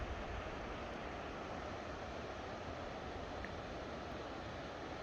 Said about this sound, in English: Nice sound of the rushing creek down below us.